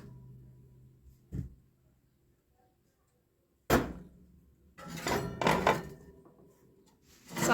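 A home oven door shuts on a new clay tajine, giving a soft thump, then a louder clattering knock and a couple more rattling bumps close by in a quiet kitchen.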